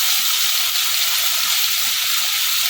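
Chilli paneer fries in a pan while being stirred, with a loud, steady, close hissing sizzle throughout.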